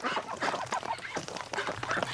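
Ducks, including Muscovies, call in a busy cluster of overlapping quacks and honks outdoors on a cold, windy day, steady and fairly close throughout.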